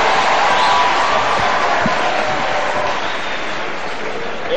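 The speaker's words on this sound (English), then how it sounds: "Another round of applause for Otonglo Time." Audience at a live event giving a round of applause, a dense, loud, continuous roar of clapping and crowd noise that holds evenly throughout.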